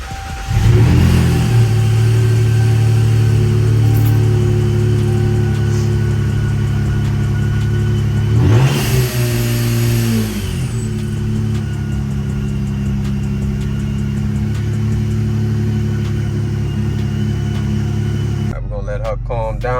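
A supercharged 3.6-litre car engine, close by, revs up sharply, holds, then blips again before settling into a loud steady idle rumble, cutting off near the end.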